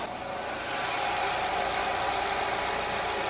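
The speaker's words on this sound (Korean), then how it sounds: "지금 바로 엔진 소리 한번 자세하게 들려드릴게요" A 2017 imported sedan's engine idles with the hood open, giving a steady, even hum with a faint mechanical whir, close and fairly quiet with no talking.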